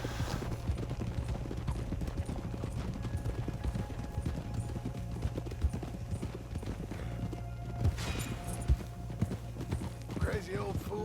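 Horse hooves clip-clop at a steady walking rhythm in Red Dead Redemption 2, close and continuous beneath ongoing voices, with a brief horse snort near the end.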